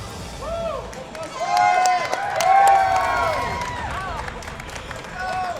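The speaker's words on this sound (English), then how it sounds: "This crowd is so loud" A large crowd at a StepManiaX dance game tournament roars and cheers loudly, with swelling shouts and whistles rising and falling, while a commentator's voice is heard under the noise.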